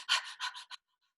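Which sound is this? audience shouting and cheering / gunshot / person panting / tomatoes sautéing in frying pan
person panting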